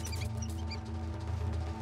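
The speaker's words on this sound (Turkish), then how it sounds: "Bu ses ne? Faredir ya" A mouse scurries and squeaks inside a house, giving a few short, high chirps over a steady low indoor hum. No one speaks.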